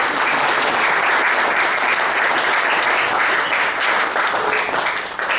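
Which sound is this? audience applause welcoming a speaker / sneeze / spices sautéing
audience applause welcoming a speaker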